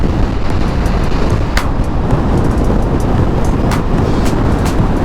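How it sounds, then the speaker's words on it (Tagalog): Loud, steady wind roaring and buffeting across the mic while riding an Easyride 150N motorcycle, with a constant low rumble of motion beneath it and no talking. "Lakas ang hangin."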